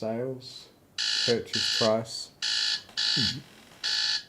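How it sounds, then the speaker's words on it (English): A repeating electronic alarm in the game MMORPG Tycoon 2 goes off in five loud, evenly spaced high-pitched bursts, each about half a second long, with someone talking in between them. "Oh, that's a alarm from when I plan to do my"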